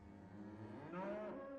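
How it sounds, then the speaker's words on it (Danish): Black-and-white Danish dairy cows in a milking barn, one low moo swelling up near the end over a steady hum of barn machinery. "Køerne er sortbroget dansk malkerace."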